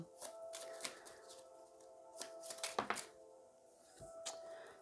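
Tarot cards shuffled by hand in a quiet room for a card reading, giving bursts of soft riffling and flicking with brief pauses between runs.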